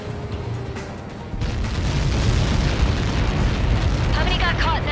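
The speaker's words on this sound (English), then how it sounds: "How many got caught in that explosion?" A large explosion in the Ace Combat 7 flight combat game swells into a sustained, loud rumbling roar that holds steady after a quieter opening, with a brief higher flutter near the end.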